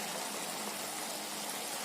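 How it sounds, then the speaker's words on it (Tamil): Water used to rinse a mixer jar is poured into a drumstick (murungaikai) gravy, making a continuous close gush of liquid with no pauses. "பாருங்க, இது கூட கொஞ்சமா மிக்சி கழுவின தண்ணிங்க,"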